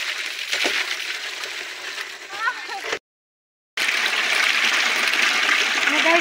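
Water runs and splashes into plastic drums and a household tank, a steady rushing stream heard close up, broken by a short silent gap, with voices talking briefly over it.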